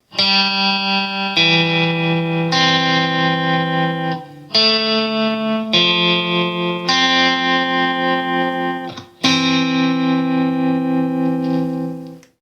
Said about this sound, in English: And I put a little tremolo on